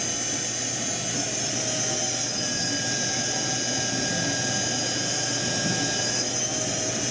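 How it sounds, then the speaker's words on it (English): An Ewag RS12 insert grinder's spindle runs at variable speed, giving a steady, loud, continuous machine whine with a high-pitched hum and faint shifting tones, no voices. "he's working the variable speed of the spindle"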